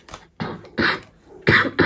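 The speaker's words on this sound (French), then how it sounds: "Ça doit être horrible dans un tirage d'entendre quelqu'un tousser comme ça." A person coughs in three or four harsh, close bursts separated by short pauses, loud and alone with no talking.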